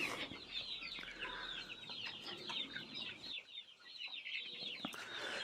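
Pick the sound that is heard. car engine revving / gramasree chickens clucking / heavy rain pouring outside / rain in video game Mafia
gramasree chickens clucking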